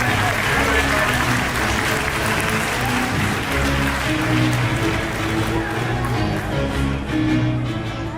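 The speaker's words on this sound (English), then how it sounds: "Let's get Sander a round of applause." Applause from a crowd at a magic and illusion show, loud and sustained throughout, with a steady dense wash of claps and some voices mixed in.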